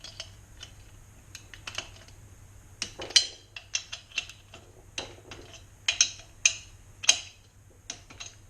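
A socket wrench ratcheting on a bolt of a 1966 Bridgestone 175 motorcycle engine, close and crisp clicking in short irregular bursts with brief pauses between strokes, over a low steady hum, no talk.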